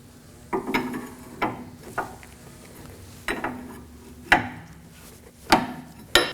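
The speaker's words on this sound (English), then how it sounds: "Using a 24mm wrench, we're going to loosen this knot." A 24mm wrench loosens a nut on the front steering of a 2014-2020 Acura MDX with the tire removed. It makes a series of close, sharp ratcheting clicks and scraping metal turns at an uneven rhythm.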